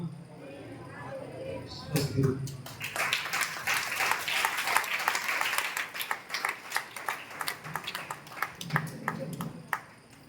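An audience at a summer training camp breaks into steady clapping a couple of seconds in, sustained applause that fades near the end, with voices audible underneath.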